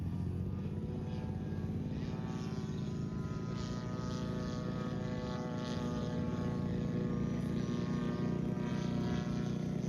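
A radio-controlled scale model Stuka plane takes off at a scale contest, its propeller engine droning steadily and loudly throughout with a constant buzzing tone, no voices over it.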